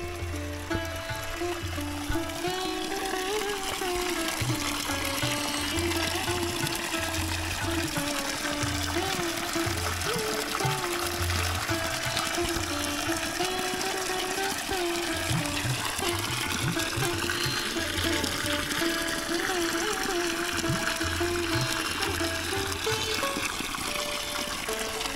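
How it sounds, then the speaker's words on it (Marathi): Water pours steadily from a cow-mouth spout into a tank at Kankeshwar temple, a continuous close splashing flow. A low intermittent hum runs underneath. "इथं बघितलं तर मित्रांनो गोमुखामधून पाणी बाहेर येतं."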